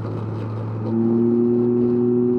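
A Can-Am Ryker with a Two Brothers S1R exhaust holds a steady rev with a deep droning hum that steps up in pitch and loudness partway through, close and loud.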